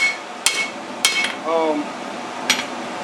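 A hammer draws out a knife blade at a forge, three sharp ringing metal strikes spaced apart, with a brief hum of a voice between them.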